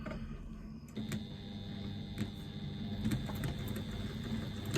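A sewing machine running steadily as it stitches a quarter-inch seam across a bag, with a continuous mechanical whir and faint ticking clicks, close and with no voices.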